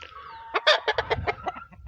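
Chickens cluck in a quick run of short, loud, close calls, and one call sounds like a brief crow fragment.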